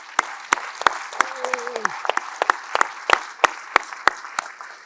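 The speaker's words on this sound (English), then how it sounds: "we'll give a round of applause for our panel members" Audience applauding the panel members at the close of a defense conference panel on unmanned and counter-unmanned systems, a sparse crowd of distinct claps, with a brief voice partway through.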